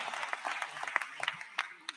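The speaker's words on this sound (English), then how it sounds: "yes, you can applaud that one too." Commencement audience at Hackensack Meridian School of Medicine in 2022 breaks into scattered, fairly quiet applause, with distinct individual claps under a speaker's voice.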